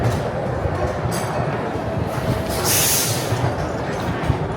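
A miniature steam train at a fun fair railway rumbles steadily nearby, with dense low chugging and a brief hiss of steam rising partway through, with no voices.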